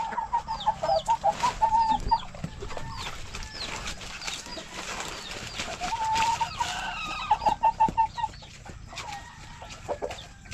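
Native backyard chickens on a Filipino farm clucking repeatedly in bursts, with layered hen calls and a distant rooster crow against a busy outdoor background.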